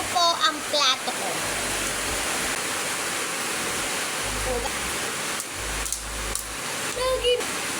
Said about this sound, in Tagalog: Huhugasan ko po ang plato ko.